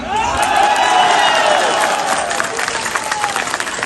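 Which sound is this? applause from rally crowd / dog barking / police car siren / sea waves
applause from rally crowd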